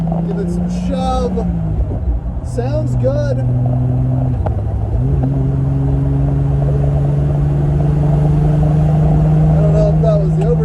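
A Triumph TR6 engine rumbles loud and close as it pulls hard, pitch climbing between gear changes with brief dips, while voices speak over it.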